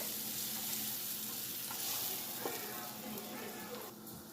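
Onions frying in a pan for a grilled potato sandwich filling give a steady, fairly faint sizzle with soft stirring scrapes, a low hum running underneath.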